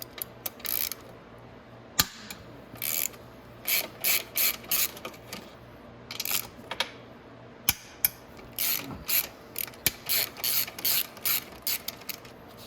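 A ratchet wrench clicks in repeated bursts on the 14 mm motor mount bolts of a Venom X22r 250cc, close and crisp, with short pauses between strokes and a couple of sharper knocks.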